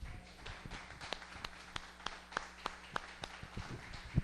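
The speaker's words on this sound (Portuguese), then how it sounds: "Vamos aplaudir ao Senhor Jesus." A church congregation claps in praise, a steady run of faint, evenly spaced claps mixed together in a reverberant hall.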